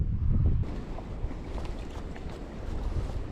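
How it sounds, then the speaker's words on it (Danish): Small waves wash over a shallow sea reef in winter, a continuous surf hiss mixed with wind buffeting the microphone. "Der er lidt større bølger."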